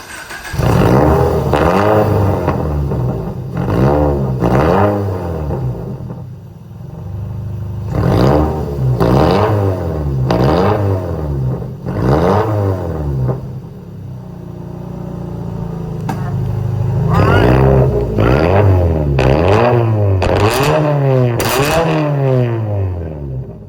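A 2018 Subaru BRZ with straight pipe exhaust, catalytic converters and black tips, revving hard and repeatedly, each loud rev rising and falling in quick succession for over twenty seconds, with a raspy idle between.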